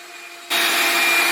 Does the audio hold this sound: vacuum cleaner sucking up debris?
yes